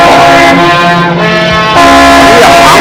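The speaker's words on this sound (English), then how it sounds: "What are you honking the horn for?" A car horn blares in a steady sustained honk with strong harmonics, loud throughout, inside a tense film-noir scene set on a city street, with a brief break midway before sounding again.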